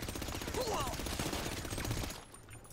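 Rapid gunfire from shooting zombies in GTA 5's PUBG mode, a dense continuous burst of shots under a talking voice, fading out near the end.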